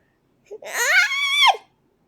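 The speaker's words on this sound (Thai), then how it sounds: "หยุดแหกปากได้แล้ว" A person lets out one short, high-pitched scream lasting about a second, close and loud, rising then cutting off sharply in an otherwise silent moment of a Thai short drama about a prison-escaped killer.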